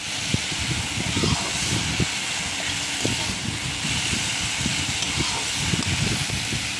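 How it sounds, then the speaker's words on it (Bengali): Leafy greens frying in a pan over a high gas flame, with water steaming off. A steady hiss with scattered crackles runs through the whole clip at close range. There is no talk. "গ্যাসটা দেখো বাড়িয়ে দিয়েছি, যাতে শাকটা একটু জল ঝরেছে, মানে জলটা তাড়াতাড়ি শুকিয়ে যায়।"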